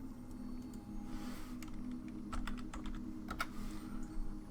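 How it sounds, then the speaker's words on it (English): Rapid clicking and typing on a computer keyboard, a run of sharp key taps in uneven bursts over a steady low room hum, close and fairly quiet. "Clicking all the Penrith Wiki links."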